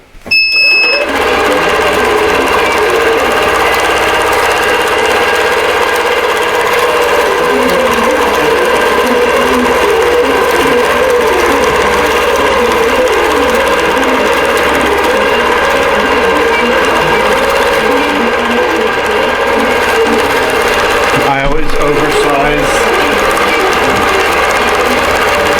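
An embroidery sewing machine stitches a table runner design, its rapid needle hammering forming a loud, steady mechanical whir that runs almost unbroken from start to finish, with one brief dip late on.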